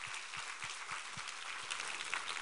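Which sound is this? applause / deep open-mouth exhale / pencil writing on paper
applause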